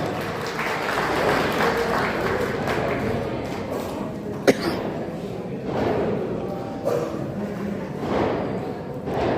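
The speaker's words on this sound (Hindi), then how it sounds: "जोरदार तालियों से एमएलए साहब का स्वागत करें एक बार में" An audience at a Sant Ravidas Regar community foundation gathering gives the arriving MLA a strong welcome. Broad, sustained applause rolls through the hall with a single sharp thump partway through, and voices mingle underneath.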